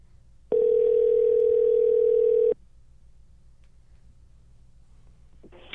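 A telephone ringing tone plays over a speakerphone as one steady, loud, unbroken tone lasting about two seconds, then the line falls quiet.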